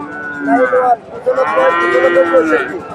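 Friesian cattle moo loudly and close at a livestock market, two long drawn-out calls separated by a brief pause, with faint background murmur.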